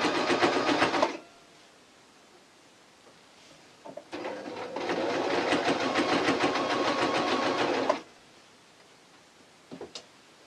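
A sewing machine runs stitching along the bobbin line of a T-shirt to the fabric edge, in two steady mechanical bursts of about one and four seconds separated by quiet handling, with a faint tick near the end.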